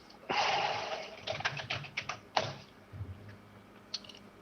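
Dice rolled during a tabletop role-playing game: a burst of rattling clicks and clacks tumbling across a hard surface for a couple of seconds, followed by a few scattered settling taps, fairly close and moderately quiet.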